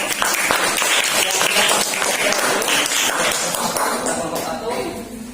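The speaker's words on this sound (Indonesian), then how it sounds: "kita beri tepuk tangan dulu kepada kelompok 1" A classroom of students claps for a group at a vocational high school, a lively burst of many hands that is loudest at first and thins out toward the end, with some murmuring voices mixed in.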